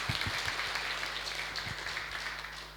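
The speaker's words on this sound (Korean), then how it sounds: "우리 큰 박수로 환영하겠습니다" A church congregation clapping to welcome a missionary family, faint steady applause heard at a distance over a low electrical hum.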